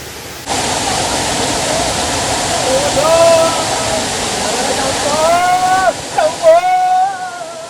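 A large waterfall in the hills rushes with a loud, steady roar throughout, while higher tonal calls or voices rise and fall over the water noise in the second half.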